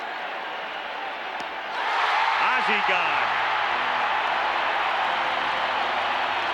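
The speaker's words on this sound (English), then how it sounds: "The crowd is already frenzied." A baseball stadium crowd at a 1987 World Series game between the St. Louis Cardinals and Minnesota Twins swells into a loud, sustained roar and cheering, with a broadcaster talking over it.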